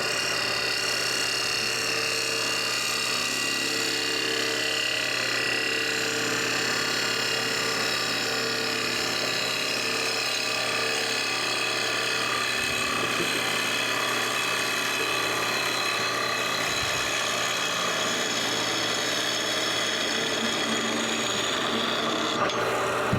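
A gouge cuts a spinning workpiece on a woodturning lathe, making a steady continuous scraping hiss with a constant motor hum beneath it, loud and unbroken for the whole stretch with no talking.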